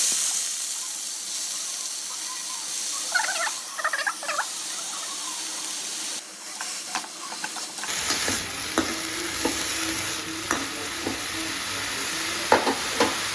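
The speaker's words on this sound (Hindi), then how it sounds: "कढ़ाई पे तेल गरम हो चुका है।" Green vegetables hit hot oil in a kadhai for a Pahadi dish, and after a quiet stretch with faint clinks, a loud, close, continuous sizzle and crackle takes over.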